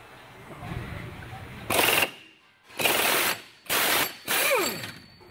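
A power tool, likely an impact wrench, loosening subframe bolts on a Saab 9-5 in a garage, heard as four loud close bursts of rapid hammering rattle separated by short pauses, with faint background noise between.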